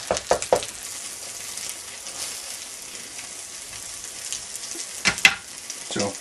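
Savory French toast frying in a pan, a constant close sizzle with a few clattering utensil knocks at the start and again near the end as pieces are turned.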